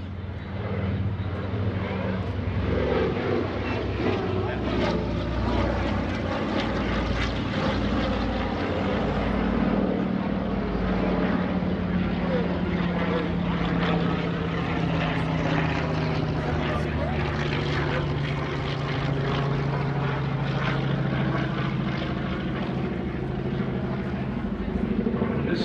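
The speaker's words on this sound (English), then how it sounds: "C-47 coming around." A C-47 propeller airplane drones steadily overhead at an airshow, a loud continuous engine roar with a slowly shifting pitch as it passes, holding throughout.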